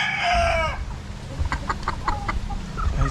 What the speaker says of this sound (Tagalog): So, okay naman yung mga manok natin.